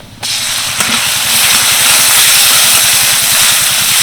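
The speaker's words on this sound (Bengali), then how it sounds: "কিছুটা বুনলেস চিকেন আগে থেকে রেখে দিয়েছিলাম ছোট ছোট পিস করে সেটাই দিয়ে দিচ্ছি" Small pieces of boneless chicken hit hot garlic butter in a pan, bursting into a loud, close, steady sizzle and hiss that swells slightly and holds throughout.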